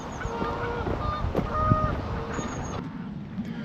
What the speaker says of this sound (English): Field full of geese honking away,